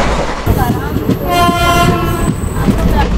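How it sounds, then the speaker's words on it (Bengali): A moving passenger train near Dehri, with a loud, steady rumble and rattle of the carriages and a drawn-out tonal horn or whistle in the middle. Faint voices sound beneath the noise. "ট্রেন দেহেরি অঞ্চল ঢুকছে এখন"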